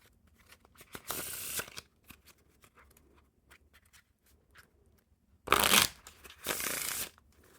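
Ecliptic Zodiac playing cards with a bright blue back design are riffle-shuffled in two quick bursts, each a close, crisp fluttering rush with softer card handling and taps between, and no one speaking.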